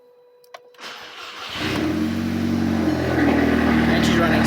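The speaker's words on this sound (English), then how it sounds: "So we're going to start the vehicle now and have a look at what she sounds like." An Audi TT fitted with an Arduino-controlled fuel pump cranks and fires after a brief quiet click. The engine catches about a second and a half in, then settles into a loud, steady idle close to the listener.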